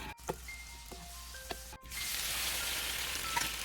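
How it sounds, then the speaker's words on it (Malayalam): Raisins, cashews and onions frying in oil for a pressure-cooker chicken dum biryani: a few quiet clicks and taps, then a sudden, steady sizzling hiss that carries on to the end. "നമുക്ക് കിസ്മിസും കാഷ്യൂ നട്ടും അതുപോലെ സവാളയും നമുക്ക് നന്നായിട്ട് ഫ്രൈ ചെയ്തെടുക്കാം."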